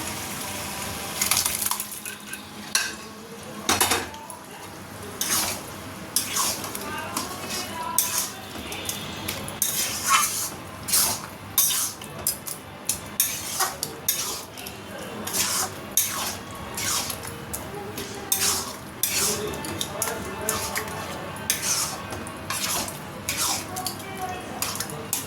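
Boiled vegetables tumbled into a pan of fried masala and stirred, with repeated scraping and clinking of a utensil against metal, steady and close, with no talk.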